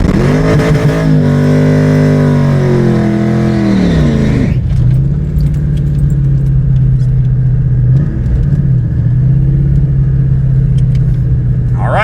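A motorcycle with a freshly replaced clutch revs hard and climbs through its gears on a first test pass, a loud, close engine roar that rises, drops with a shift, then settles into a steady drone.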